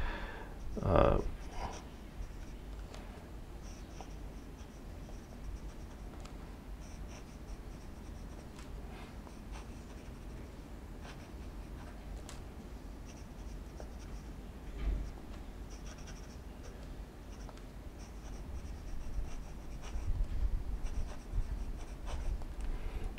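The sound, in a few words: Platinum Procyon fountain pen nib writing on paper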